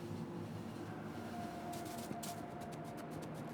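Iron train rolling along rails in the video game Factorio, a steady low rumble with faint clicking and a thin tone partway through, moderately quiet and heard alone.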